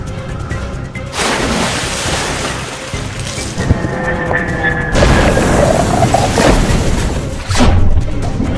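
A Lego B-52 plane crashes after a missile hit, with loud rumbling booms, roaring whooshes and crashing impacts that build over several seconds.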